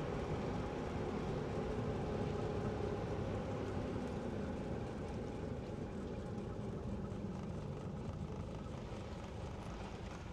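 A 1952 Delahaye 235 classic car with Antem targa coachwork is heard from inside as its engine and road noise make a dense, steady drone for the whole stretch, with no clear break or change.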